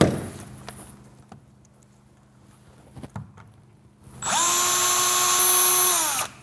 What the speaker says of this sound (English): It's always worth making sure that you've got something underneath the door to protect it while you're drilling